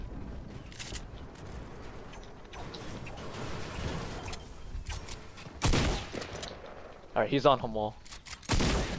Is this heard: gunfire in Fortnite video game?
yes